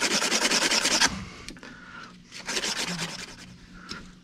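Rasping and rubbing of a pilot bearing being polished by hand to fit, a fast burst of rhythmic strokes followed by slower, quieter rubbing, close up with no speech.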